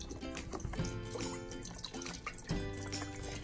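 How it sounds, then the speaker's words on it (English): Broth poured into a soup pot on a stove set to medium heat, a faint steady liquid stream with dripping and splashing over a few seconds. "And we're gonna go ahead and pour in our broth."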